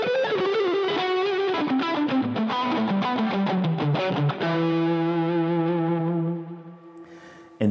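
Electric guitar played through reverb, a boost and high gain, giving a distorted, compressed tone: a fast run of notes descending, then sustained chords ringing out and fading.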